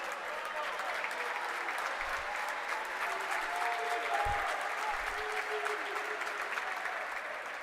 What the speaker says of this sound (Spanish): Toda la gente de Franja aplaudió la salida de Facundo Iribarne